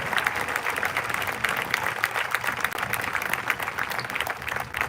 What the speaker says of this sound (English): Can we have a round of applause for our junior ROTC and the BCHS choir?